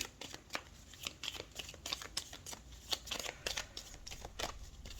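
Tarot cards are shuffled close by in a run of crisp, rapid riffling bursts that repeat steadily, quiet and alone.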